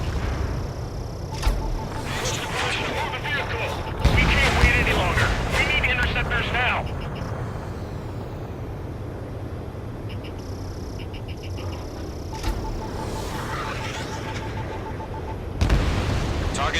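Anti-aircraft fire and explosions in Ace Combat 7 mission 2 roar over a dense rumbling battle din, with bursts of heavier blasts and crackling fire, while radio voices talk over it.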